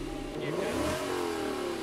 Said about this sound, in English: And then there's that exhaust.